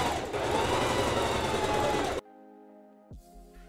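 A sewing machine runs in a steady, loud whirring burst while stitching the corners of a fabric bag, then stops abruptly, leaving a quiet hum and a small clunk.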